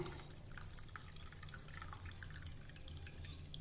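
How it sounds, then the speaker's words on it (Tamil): Thin dal water being poured into a pot of rasam, a steady close trickle of dripping and splashing liquid running throughout with a low hum underneath. "பருப்பு தண்ணி மட்டும் சேர்த்துக்கிறேன்"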